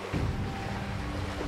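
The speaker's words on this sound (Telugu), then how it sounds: "మంత్రగత్తె ఇలా చెప్పగానే సముద్రంలో అలలు ప్రిన్స్ షిప్ వైపు రాసాగాయి" Stormy ocean waves roll and surge toward a prince's ship in a children's fairy-tale setting, a dense continuous roar of water and wind filling the short stretch without any voices.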